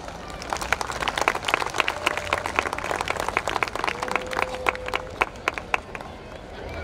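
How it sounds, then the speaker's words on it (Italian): An audience claps to welcome the Rector Major to the podium at a Salesian event in Pune, India, giving dense, lively applause that holds for several seconds. "We welcome Rector Major to the podium with a loud round of applause."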